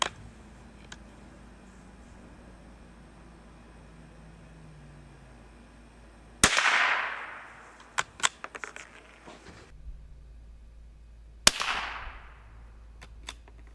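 A .22 LR rifle fires Winchester Dynapoint high-velocity hollow point rounds, two sharp cracks several seconds apart with brief decaying tails, followed by small metallic clicks of the action between them, otherwise quiet outdoor background.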